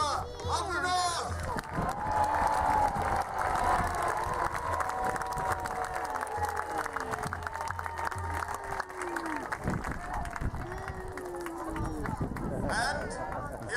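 Crowd cheering and clapping for a jousting knight at a medieval fair at Pendennis Castle, a steady loud roar of voices and applause throughout, with an announcer's amplified voice running over it.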